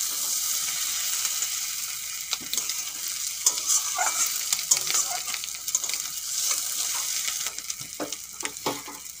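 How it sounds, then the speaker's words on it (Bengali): Eggs added to frying onions and stirred in a pan, a continuous close sizzle broken by repeated scraping and tapping spatula strokes, with no voices. "ডিমগুলো দিয়ে হালকা নেড়ে"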